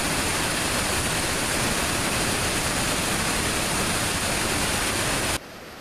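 A waterfall roars as a loud, steady wash of rushing water that holds constant, then drops away abruptly near the end.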